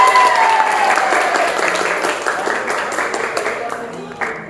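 A class of students applauds group 2, with dense, steady clapping filling the room and fading slightly toward the end as voices begin to come through.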